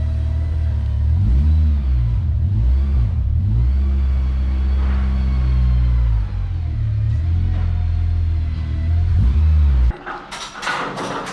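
A K20-swapped Honda Civic EJ9 engine idles with a loud, steady low rumble, rising in short rev blips early on, then cuts off near the end as brief higher noises follow.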